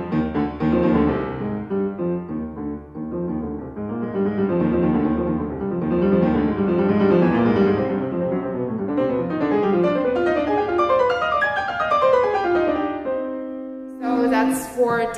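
Piano plays a Beethoven Sonata Op. 111 passage with both hands in octave unison, a continuous rising and falling line of notes, full and resonant, ending in a sustained held tone before a brief pause.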